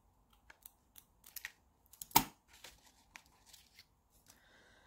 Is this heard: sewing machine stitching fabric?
no